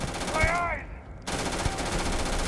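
A gun firing rapidly in the video game Starfield, a steady close stream of repeated shots with a brief pause in the middle, joined by a short rising electronic tone.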